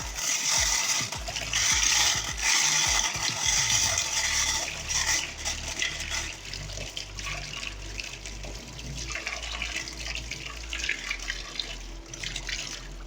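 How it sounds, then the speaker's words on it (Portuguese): Soil sample is washed with running water through a sieve for grain-size analysis, a continuous rush and splash of water with rattling, scraping sieve noises, close and fairly loud throughout. "por baixo da minha peneira não está mais saindo aquela água turva"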